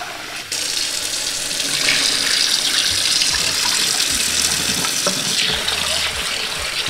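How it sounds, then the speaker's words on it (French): Rice is rinsed in a kitchen under running tap water: a steady, close stream splashes and gushes into the grains for several seconds, with small shifts as the water pours and swirls. "Je le rince plusieurs fois jusqu'à ce que l'eau soit plus ou moins transparente"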